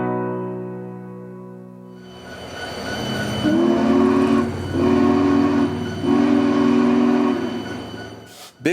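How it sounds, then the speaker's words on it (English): Union Pacific Big Boy 4014 steam locomotive leaves the shop with a loud, sustained chime whistle sounding in three long blasts over the rumble of the engine, close by. "Big Boy 4014 is leaving the shop and will soon take a short test train out on the main line."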